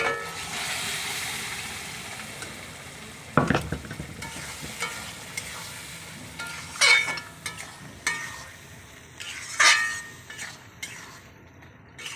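Masala ghugni ingredients poured into a hot kadai on a gas stove and stirred, giving a soft sizzle with scattered clinks and scrapes of a spoon against metal, fairly quiet and close, with no talk.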